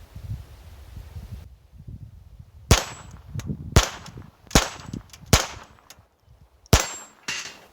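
A Ruger SR22 semi-automatic pistol fires Remington Viper .22 LR rounds: five sharp, near cracks spaced about a second apart, each with a short metallic ring, over quiet shuffling.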